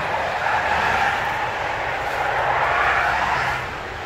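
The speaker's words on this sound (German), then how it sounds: "wenn ihr mich nicht hört, dann liegt es an den Autos" Traffic on a street outside an abandoned house: a car passes with a broad, steady whoosh of tyres and engine that swells and then eases off, loud and close, with no talking.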